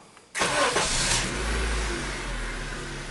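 A Honda Civic engine cranks and catches abruptly, then settles into a steady, close idle that hums evenly with no voices.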